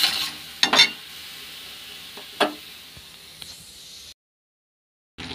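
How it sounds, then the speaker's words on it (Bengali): Grated garlic goes into a hot pan with fried potato, onion and half-cooked meat, giving a few sharp sizzling bursts and scraping stirs over a steady low fry hiss, then a brief drop to silence. "তো এখন দিয়ে দেবো রসুন, এই যে গ্রেট করে নিয়েছি রসুনটা দিয়ে দিলাম।"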